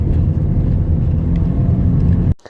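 A Kia Sportage CRDi diesel SUV climbs a steep incline, its low engine drone rumbling loud and steady close by for over two seconds before cutting off abruptly, with no speech.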